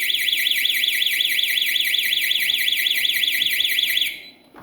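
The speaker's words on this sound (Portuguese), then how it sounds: "Detectou o movimento, o cliente demorou para desarmar, o alarme vai disparar." A security alarm system, set off by a passive infrared motion sensor, sounds a loud, continuous warbling electronic siren close by, then cuts off abruptly near the end.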